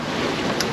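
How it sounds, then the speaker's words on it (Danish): Strong wind roars steadily across a sailboat with a single-reefed mainsail on the Øresund, a dense, continuous rush with no voices. "Vinden den er tiltaget lidt heroppe"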